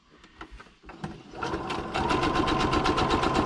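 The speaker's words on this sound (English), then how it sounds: "you could go ahead at this point and sew around the entire tag as well" Sewing machine stitching around a paper tag, a few separate needle stabs at first, then a fast, continuous, rhythmic mechanical chatter at close range that holds steady to the end, with no speech.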